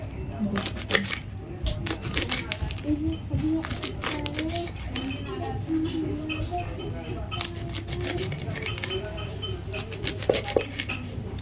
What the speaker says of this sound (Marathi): सो आता आपण ना ही भाजी चिरून घेऊया मस्तपैकी चिरून घेऊया